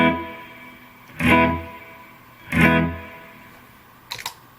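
Clean electric guitar through an Eventide pedal on the Hall 1 reverb preset, three separate struck chords, each ringing out and fading into a smooth hall tail, the last one brief.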